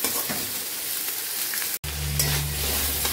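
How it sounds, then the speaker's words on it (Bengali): Curry with ginger, green chili, turmeric and cumin sizzles and fries in a pan, a steady close crackle that thickens into a louder frying hiss partway through. "তো এই যে তরকারিটা কষানো চলছে"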